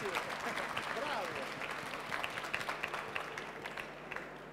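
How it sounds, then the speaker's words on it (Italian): An audience applauds at a talk on astronomy and physics, steady clapping from a crowd that fades toward the end, with talk over it. "Facciamo un applauso, perché veramente bravissimo."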